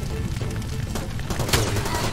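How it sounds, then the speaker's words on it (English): Gunfire in the video game Far Cry 2, a few sharp shots and a louder crack mixed over rumbling low background noise during a short burst. "Somebody's shooting."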